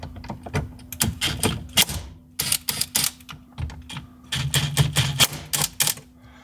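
An impact wrench zips out 10mm bolts inside the interior of a Subaru STI, firing in repeated rattling bursts separated by short pauses, close and fairly loud.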